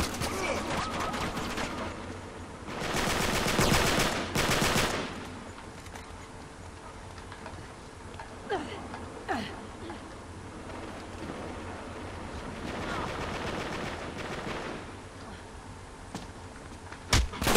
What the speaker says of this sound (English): Run away blind firing.